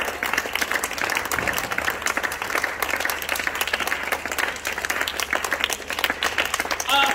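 A church crowd at a back-to-school day gathering in Matadi applauds and cheers loudly and continuously, dense clapping with voices mixed in throughout.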